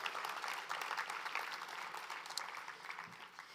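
Crowd applause at a graduation ceremony held at the Georgia Aquarium, strong at first and then gradually thinning and fading.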